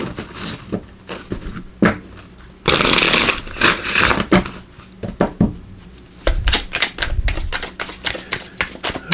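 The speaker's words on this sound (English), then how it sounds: "we're also going to pull cards here from the minor arcana of the Runic Tarot" A deck of Runic Tarot cards is shuffled by hand, with bursts of crisp riffling and flicking, a long dense riffle in the middle, and scattered taps and card snaps close by.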